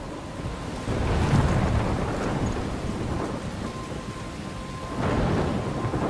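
Rolling thunder rumbles through a steady downpour during a storm in the Life Is Strange video game, with heavy rain hissing throughout and louder crashes swelling near the start and again toward the end; no talking.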